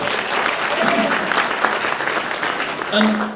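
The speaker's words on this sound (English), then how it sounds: "Round of applause for Kitman." Audience applause for a student contestant at a college elevator pitch competition, a steady wash of clapping from a crowd, with a voice speaking briefly over it near the end.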